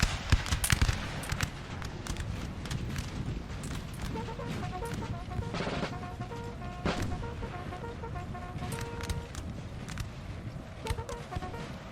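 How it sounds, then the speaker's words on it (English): Napoleonic-era musket volleys crackle in a large battle in the video game Napoleonic Total War 3, with dense, overlapping pops and rattling shots rolling on continuously, some louder cracks standing out near the start. "They're standing and shooting and doing a good job of it."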